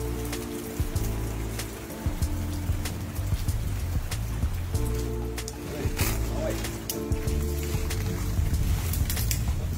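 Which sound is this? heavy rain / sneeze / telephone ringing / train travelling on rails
heavy rain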